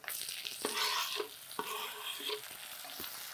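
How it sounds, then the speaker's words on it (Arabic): Onion, garlic and peppers frying in a pan, a bright steady sizzle with a few spoon scrapes and knocks against the metal, close up and moderately loud. "هون اتحمر عند البصل مع الثوم مع الفليفلة"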